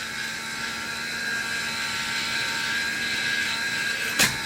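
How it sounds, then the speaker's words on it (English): A powered cartridge case chamfer and deburr station, used on trimmed .22 Hornet brass, whirs steadily and close at a high pitch throughout, with one brief sharp scrape of a case near the end. "chamfer and deburr station and run it through these after you've trimmed it,"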